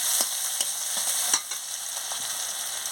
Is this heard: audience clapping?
no